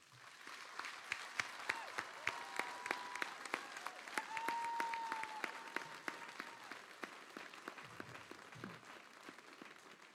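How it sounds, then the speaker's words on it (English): A graduation ceremony audience for new American soldiers applauds steadily for about ten seconds, a dense wash of many hands clapping at a distance in a large hall, with a faint voice briefly audible. "Ladies and gentlemen, please join me in a round of applause for our newest American soldiers"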